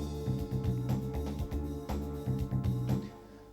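A Roland XP-80 synthesizer plays a sustained sequenced part whose first chord contains one wrong note, layered pad tones with a rhythmic pulsing bass underneath, fairly loud and without speech.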